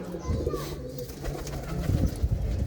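Several fancy pigeons of mixed breeds coo in low, throaty rolling calls that overlap steadily, close by, with some faint human voice and movement noise around them.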